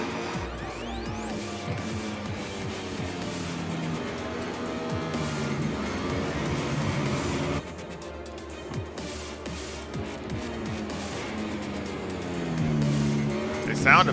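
Racing motorcycles in the video game MotoGP 22, engines whining and shifting pitch as bikes rev and pass through corners, loud and continuous, with a voice talking over them.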